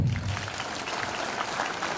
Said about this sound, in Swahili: Si tuwaongezee makofi.